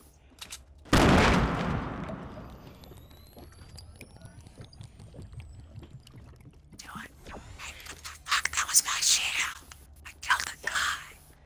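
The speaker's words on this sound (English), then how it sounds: "Let's celebrate with fireworks." Fortnite fireworks burst in the game, a sharp loud bang at the start fading into hissing sparkle, then a cluster of crackling pops later, with faint voices in between.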